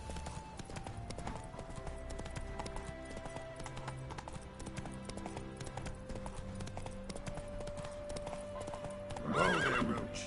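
A video game horse named Roach trots with steady clip-clop hooves beneath game music, then lets out a loud, clear neigh near the end.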